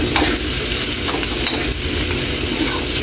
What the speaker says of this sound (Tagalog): Haluin muna natin saglit